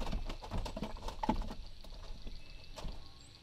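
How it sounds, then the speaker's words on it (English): Fish flop and thump inside an ice chest after a perch fishing trip, giving irregular muffled knocks and patters that fade toward the end, fairly quiet and close. "That's them fish jumping around in the ice chest."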